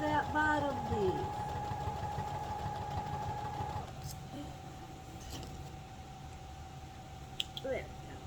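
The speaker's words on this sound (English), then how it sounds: "then you just sew on the unsewn edge of that bottom piece" A sewing machine stitching quilt pieces whirs steadily at close range, then runs more quietly after a few seconds, with faint clicks and handling sounds and a voice speaking briefly at the start.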